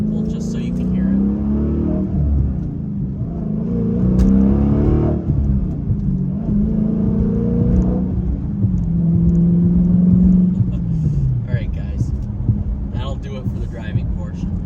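A Dodge Challenger SRT8 accelerates with a loud, deep engine roar that climbs through several rising gear pulls, surging and easing back over about fifteen seconds, heard close and without talk.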